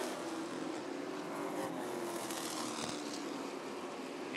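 Sportsman race cars circling Rockford Speedway during a feature race, a steady, dense engine roar from several cars blending into one continuous distant drone that holds level throughout.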